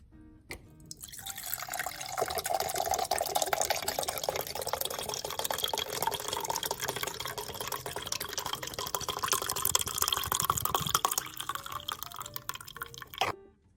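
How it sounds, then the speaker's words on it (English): Fresh green juice pouring from a Hurom H400 juicer, a steady close liquid stream running for about twelve seconds without talk. "There's my juice. Let's go ahead and pour some."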